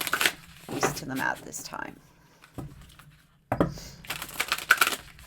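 Tarot cards shuffled by hand, giving soft riffling and patting bursts that mostly sit under a person talking, with one clearer stretch of shuffling near the end.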